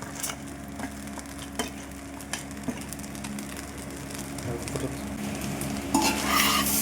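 Eggs and chicken pieces sizzle in a hot pan for chicken fried rice, with a steady frying hiss and repeated scraping stirs of a utensil, close and prominent, with no talking.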